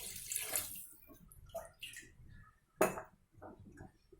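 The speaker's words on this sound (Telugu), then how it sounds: "గ్లాస్ వాటర్ వేసాను." A glassful of water is poured into a cooking pot while making a fish curry, a few short splashing pours with a sharp clatter of pot or glass midway, fairly close and heard alone.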